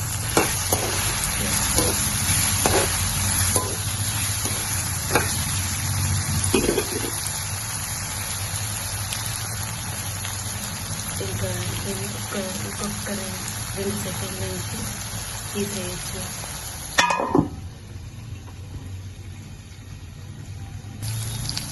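Raw mango pieces cook in a pan for pickle with a steady close sizzle and hiss, broken by a few clattering stirs, and a louder scrape near the end before the sizzle quiets.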